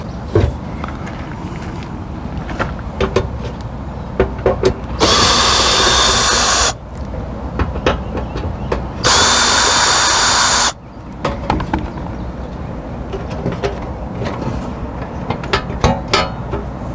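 A power drill removes screws from the heating element of an Ariston (Splendide) dryer, two loud sustained whirring bursts of about two seconds each, separated by clicking and handling noises close by.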